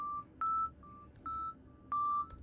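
A pitched-up sine wave from the Vital software synth plays as pure, clean held notes, four or so in a row with short gaps between them, standing alone over faint background noise.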